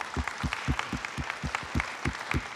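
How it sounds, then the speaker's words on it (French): Applause for the head of SNCF Réseau at an event, heard as a small, fairly quiet round of evenly spaced individual claps at roughly four per second. "Mathieu Chabanel, merci beaucoup pour cette intervention qu'on peut applaudir,"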